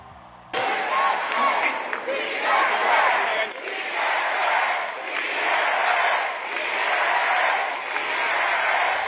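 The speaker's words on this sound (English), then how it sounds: "The crowd chanting slogans like "Freeze the Rent," as well as DSA" A large crowd at a Democratic Socialists of America rally in Queens for Mamdani, loudly chanting slogans such as calls to freeze the rent, starting abruptly and rising and falling in rhythmic waves of massed voices.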